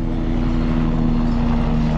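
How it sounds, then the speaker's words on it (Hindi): A helicopter flies near Kedarnath with a loud, steady engine drone and a low, pulsing rotor beat, continuous and close throughout. "और कुछ लोग हेलीकॉप्टर से भी आ रहे हैं"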